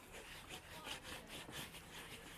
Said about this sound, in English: We just take our finger, we rub a little bit in